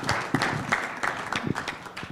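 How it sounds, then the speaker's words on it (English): Audience applause for a conference panel at a blockchain event in Wyoming, a dense patter of clapping hands that fills the whole moment at steady, moderately loud level without a clear peak. "Let's give a round of applause for our first panel."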